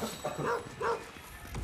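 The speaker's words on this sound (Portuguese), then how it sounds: "cachorro é esse que tá latindo" A dog barks a few times, short yips from a backpack in the Fortnite video game, fairly faint and spaced apart.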